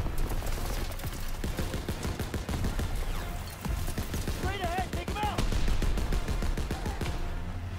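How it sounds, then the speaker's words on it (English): Rapid bursts of a mounted machine gun rattle through a Call of Duty WW2 firefight, dense repeated shots over about eight seconds amid other gunfire and battle noise, loud and close. "With a mounted MG"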